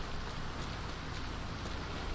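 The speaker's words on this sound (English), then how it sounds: "Run, it's raining." Steady, even hiss of rain falling in the video game GTA 5, a dense continuous wash of patter with no voices over it.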